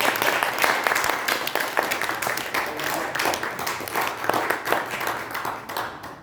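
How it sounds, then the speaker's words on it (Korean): A room of attendees at a meeting welcomes a newly elected federation secretary general with a burst of clapping, fairly close and uneven, rising and thinning over several seconds with some voices mixed in. "그런 의미에서 한번 크게 박수 한번 쳐드립니다"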